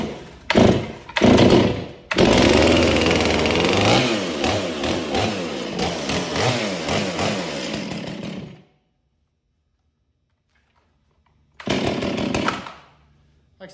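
A Stihl MS 461 chainsaw engine is pulled over, catches and runs, a loud close buzzing that surges and revs unevenly before cutting off, then a brief burst of running again after a pause.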